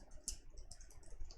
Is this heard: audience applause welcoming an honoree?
no